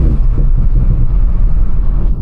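A BMW M850 engine with stock exhaust rumbles loudly and steadily at close range, a deep low exhaust drone with no voices.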